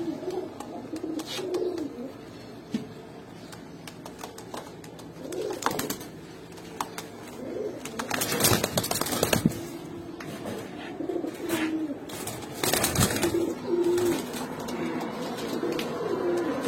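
Pigeons, including Kaldom and Garra breeds, coo softly and repeatedly nearby, with occasional wing flutters and rustling bursts over a quiet background.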